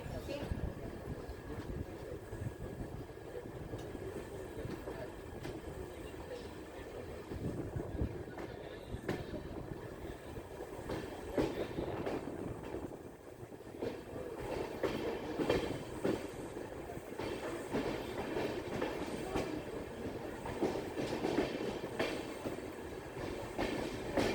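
The 11097 Pune–Ernakulam express runs on rails descending the Braganza Ghat from Castle Rock toward Goa, a continuous rolling rumble with rhythmic wheel clatter and occasional squeals, steady and moderately close for the whole stretch.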